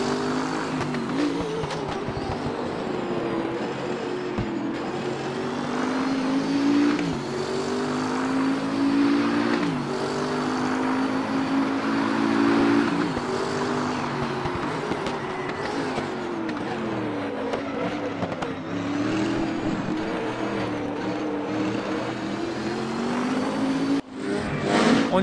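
A Bentley GT3 race car in a racing video game at the Zandvoort circuit roars continuously, its engine pitch climbing and falling through gear changes, loud and unbroken, with faint tire noise near the end.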